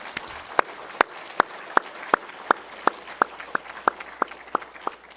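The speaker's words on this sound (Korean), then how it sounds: "큰 박수 보내주시기 바랍니다" A church congregation at a Wednesday worship service claps in slow, evenly spaced, sharp beats, about fourteen crisp claps ringing out clearly over a soft room murmur.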